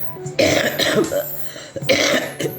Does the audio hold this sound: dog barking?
no